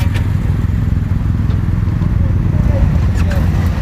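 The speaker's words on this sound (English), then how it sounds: "The journey begins with motorcycle escorts leading the way." Motorcycle escorts lead a memorial group ride, their engines giving a steady, loud, continuous rumble throughout, with faint voices mixed in underneath.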